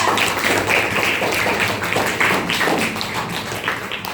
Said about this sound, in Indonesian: Tepuk tangan untuk Keisha